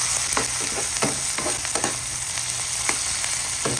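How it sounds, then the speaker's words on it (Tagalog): Garlic, ginger, onion and tomato sauté in a pan of hot oil with a loud close sizzle, punctuated by quick scraping stirs, with no voices. "Isigasa lang po natin."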